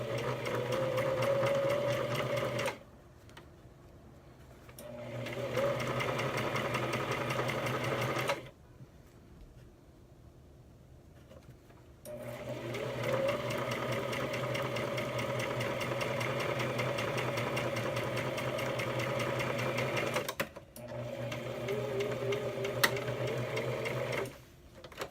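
A sewing machine stitches denim for a zipper, its motor whirring in a steady fast rhythm through several long runs separated by short pauses, close and fairly loud.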